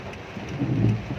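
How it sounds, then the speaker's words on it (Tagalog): Heavy rain pours on a car stuck in traffic in Baliwag, a steady dense patter with a low rumble that swells toward the end, with no voices. "ang lakas ng ulan"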